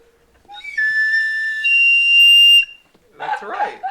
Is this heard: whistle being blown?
yes